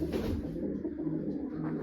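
Pigeons coo softly in a low, steady murmur, with a constant background hum throughout.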